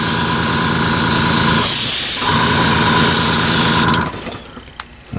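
Airbrush spraying skin-tone paint gives a loud, steady, close hiss for about four seconds, with a faint mechanical hum beneath, before stopping abruptly into quiet shuffling.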